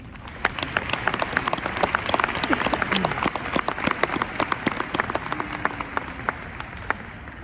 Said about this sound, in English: Students, can we please give another round of applause for our amazing classmates?